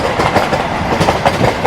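A Patna to Delhi special Vande Bharat Express passes close alongside on the adjacent track, a loud continuous rumble of wheels with rhythmic clickety-clack over the rail joints, no voices.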